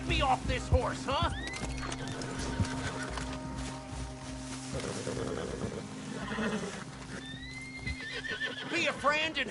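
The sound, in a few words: horse neighing in a video game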